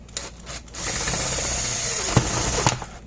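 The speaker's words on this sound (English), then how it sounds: "I'm going to drill straight down to this little hole here." A big drill bit bores through the plastic casing of a Gallagher B1200 battery-powered electric fence energizer, a loud continuous whining grind after a few short starting bursts, with sharp clicks and knocks near the end.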